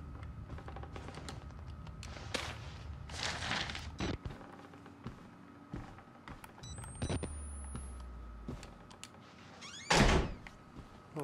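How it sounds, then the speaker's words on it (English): A door swung shut in the horror video game Outlast, landing as a few muffled thunks and a broad slam near the ten-second mark amid a dim, rumbling game ambience, with no talking. "Closing that door because I'm scared"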